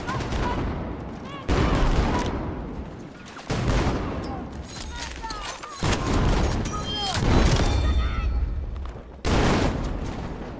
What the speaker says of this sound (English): Oh, I'm grenade spamming.